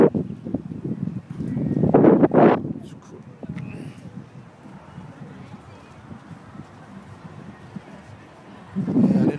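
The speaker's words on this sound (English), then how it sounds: "So windy." Gusty wind by the Han River buffets the microphone in low rumbling bursts, strongest near the start and again at the end, with no one speaking.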